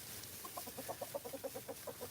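A backyard flock of chickens with several roosters clucks in a quick regular series of short, mid-pitched calls close by, rising and falling in loudness over a low background murmur.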